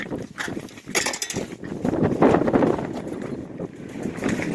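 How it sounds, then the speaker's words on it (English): Strong wind gusting across a frozen oxbow pond in late January during an ice-fishing storm, with buffeting rumbles and surging blasts against the microphone that rise and fall unevenly. "it's very windy here."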